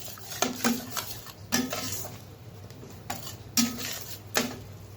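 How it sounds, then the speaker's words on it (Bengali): Spoon scraping a pan as sour yogurt is mixed into a spice paste for a mustard-poppy seed aar fish curry, a few distinct clinks and scrapes repeating at a steady pace, close by with no talk. "টক দই দিয়ে দিলাম, তো ভালোভাবে মিশিয়ে নেব আবারও"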